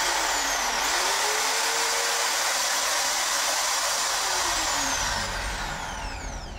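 A 550-watt electric drill runs at full speed, a loud steady close motor whine that holds, then dips slightly in pitch and level near the end.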